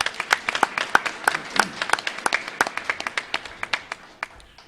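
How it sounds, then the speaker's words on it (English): Scattered applause from a small audience at a local candidates' meet-and-greet, with sparse distinct claps in an uneven rhythm that thin out toward the end. "Let's give him a round of applause."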